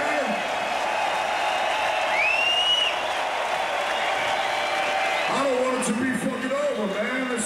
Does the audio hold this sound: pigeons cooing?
no